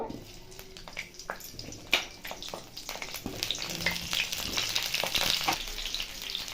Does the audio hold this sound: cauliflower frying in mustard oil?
yes